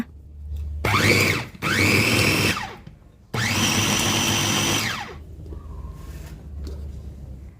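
An electric mixer whirs through banana cake batter for a steamed banana cake in a home kitchen, running in three loud, steady bursts with short pauses between and a quiet room after.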